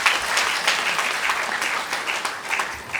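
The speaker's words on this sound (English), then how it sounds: "Can we applaud ourselves?" Audience at the APWEN engineering conference opening ceremony applauding themselves, a dense, steady wash of many hands clapping at close range, sustained evenly throughout without a break.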